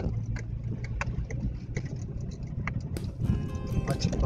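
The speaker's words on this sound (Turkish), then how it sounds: "Sallamasın diye gaza basıyorum" A car engine revs and accelerates while driving along a snowy winter road in Turkey, a steady low rumble rising louder near the end, with faint talk underneath.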